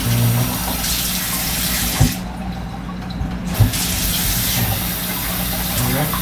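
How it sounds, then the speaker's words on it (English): Tap water runs steadily into a kitchen sink as bok choy is rinsed in a small galley kitchen, a loud continuous splashing rush broken by a brief dip and a couple of soft knocks. "Rinse it off the bok choy."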